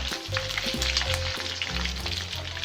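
Beans deep-fry in hot oil for a Thai pounded fried-bean salad, making a dense, close, continuous crackling hiss with low bubbling throughout. No voices are heard.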